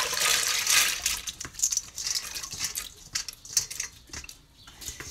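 Rinsed pinto beans drain in a colander, giving a close, steady trickle and patter of water with scattered drips, loudest at first and then thinning out.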